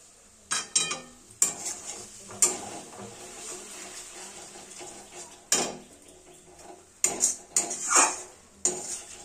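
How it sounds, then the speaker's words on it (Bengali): Spice masala for chicken is stirred and fried in a pan, sharp metallic clanks of a spoon against the pan rising in bursts over a soft, steady sizzle. "অনবরত খুব সুন্দরভাবে নাড়াচাড়া করে মশলাটা আমরা কষতে থাকব"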